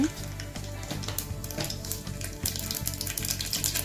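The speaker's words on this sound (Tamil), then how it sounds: "எண்ணெய் காஞ்சோடனே கடுகு போட்டுட்டேங்க" Mustard seeds crackle and spatter in hot oil in a pressure cooker, a dense close sizzle with sharp popping bursts layered over a low hum; no voices.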